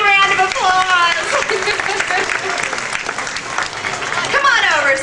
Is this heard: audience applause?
yes